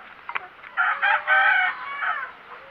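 A rooster in a rural yard gives a couple of short clucks, then a drawn-out crow in several rising and falling phrases, fairly close and clear against a quiet background.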